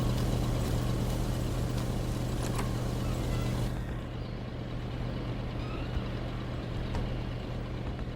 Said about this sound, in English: God, my truck is loud as all hell.